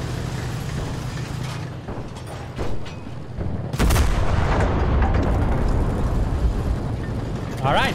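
A tank is destroyed in the World War II shooter Enlisted during a Battle of Berlin match: a sudden loud blast erupts midway and is followed by sustained rumbling, clattering combat noise, with a voice heard faintly underneath.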